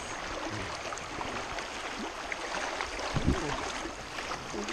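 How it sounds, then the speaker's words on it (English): Broadband rushing water of river rapids on rocky Talladega Creek, a steady close wash with occasional splashes and a few brief knocks, heard alone without talk. "River rapids!"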